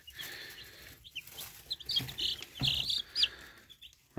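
Newly hatched chicks chirping, a few short high peeps in scattered bursts, fairly close but soft, over a quiet background with light rustling.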